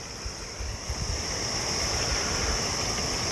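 Floodwater rushing from a breached canal over field embankments toward a village, a steady broadband roar of churning water that holds constant and close throughout, with no voices.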